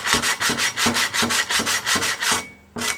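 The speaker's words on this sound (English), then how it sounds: "You get a lot more force on the sandpaper, can't you, that way?" A Honda ATC front brake shoe is rubbed back and forth on sandpaper in about a dozen even, rhythmic rasping strokes, loud and close, with a short pause before the last stroke.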